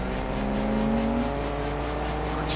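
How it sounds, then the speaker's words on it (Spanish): A steady engine drone with a rising whine, continuous and fairly loud, a car revving in Fortnite. "el ruido que hacen los coches"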